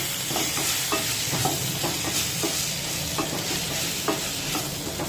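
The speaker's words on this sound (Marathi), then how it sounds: "मटकी थोडीशी खालीवर करून घेऊया" Moth beans are stirred in a hot pan, with repeated scraping strokes over a soft, continuous sizzle.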